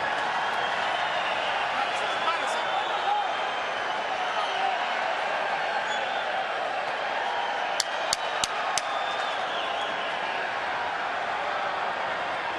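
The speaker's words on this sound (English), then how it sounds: "This is a Marquez crowd. And they are fired up and should." Boxing crowd at the MGM arena during a Marquez fight, a steady dense roar of cheering and murmur with a few sharp claps or knocks near the middle, broadband and continuous under commentary-like voices.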